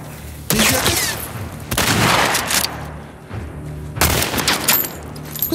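Bursts of gunfire in The Last of Us Part II during an ambush, with loud rapid volleys and booming shots in three main clusters separated by brief lulls.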